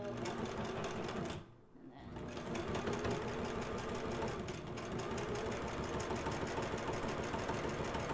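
A sewing machine stitching a leather envelope bag runs in a fast, steady mechanical whir, pausing briefly near the start before continuing at close range without a break.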